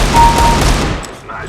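Gunfire in the Global Strike video game, dense loud shots and blasts filling most of the moment before fading into quieter game ambience.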